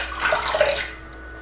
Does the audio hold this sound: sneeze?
no